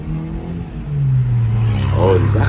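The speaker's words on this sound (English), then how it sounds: "You step on the gas like that." A 1996 Honda Civic VTi with a rebuilt stock engine accelerates from inside the car, the engine note swelling and rising in pitch as revs climb, loud and close, with a voice speaking briefly near the end.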